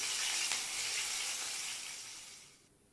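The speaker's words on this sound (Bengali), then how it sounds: "প্রায় পাঁচ মিনিট এভাবে তেলের মধ্যে ভেজে নেবেন" Chicken wings deep-frying in oil in a kadai give off a steady, dense hiss of bubbling oil that tapers off near the end, close by and moderately quiet, with no talking.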